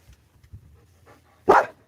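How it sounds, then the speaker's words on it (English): A loud dog barks once, close by, a single sharp burst after a few soft thumps and faint background noise. "Hey, you're a loud dog."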